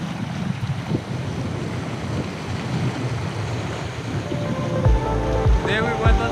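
A speed boat cruises at sea off Mauritius, its steady engine drone mixed with rushing water and heavy wind buffeting the microphone throughout, with a few louder thumps near the end.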